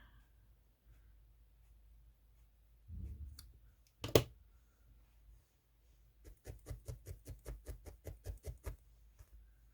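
Scissors trim a needle felted wool figure: a single sharp snip, then a quick run of about a dozen small rhythmic clicks and snips, close and quiet.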